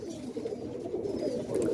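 Racing pigeons in a loft coo steadily and softly, with several birds overlapping in a continuous low murmur and no talking.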